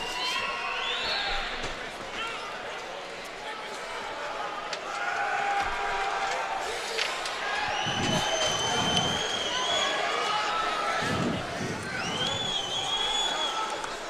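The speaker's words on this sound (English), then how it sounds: "Crowd for Joey Frederickson" Arena crowd at a fight-card undercard roars and cheers for fighter Joey Frederickson as he is introduced, a steady dense swell of voices with whistles and shouts, while an announcer talks over it.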